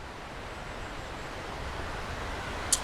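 Waterfall in the Eyne valley of the Pyrenees, heard from about fifty metres away as a constant broad rushing roar, steady and even throughout, with a brief sharp click near the end and no voices.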